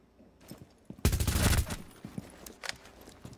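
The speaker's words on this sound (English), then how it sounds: "That was a clean shot." A single loud gunshot burst with a short crackling tail in Rainbow Six: Siege, heard close up, with quieter shuffling and faint sounds before and after.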